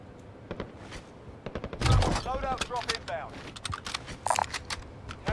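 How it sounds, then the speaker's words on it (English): Rapid cracks of assault rifle fire rattle in a video game firefight, scattered bursts under loud excited talk and game effects, rising to a dense volley midway before thinning to sporadic shots. "some fucking AR bullets"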